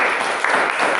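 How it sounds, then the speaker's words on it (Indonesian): A classroom group claps for another group in a short burst of applause. The hand claps are dense and steady and last about a second. "Oke, berikan aplaus untuk yang lain."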